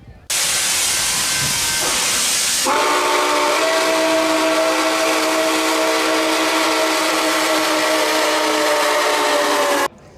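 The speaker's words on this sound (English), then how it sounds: "We get the big boat ship back again. Nice whistle" A ship's steam whistle blows a long, loud, sustained tone after a burst of hissing steam, holding steady for several seconds before cutting off.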